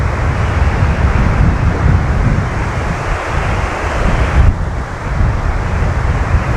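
Strong wind roars across an open golf course, a loud, steady broadband rush buffeting the microphone without pause, with a brief dip and swell near the end and no voices.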